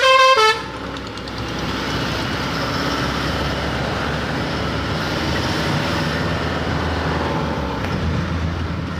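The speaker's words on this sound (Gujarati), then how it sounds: "હોરન મારી દે" A truck horn gives a short loud blast at the start, then a road vehicle's engine drones steadily at close range for the rest, with no talk.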